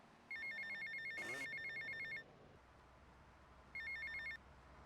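A telephone rings in GTA Vice City: a long electronic ring burst, a short pause, then another shorter burst, loud and clear over a low game background.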